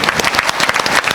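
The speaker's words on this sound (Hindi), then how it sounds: "एक बार बहुत जोरदार ताली होनी चाहिए।" A short burst of crowded, rapid clapping from a seminar audience at an insurance sales talk, close and fairly loud with a rough, busy texture.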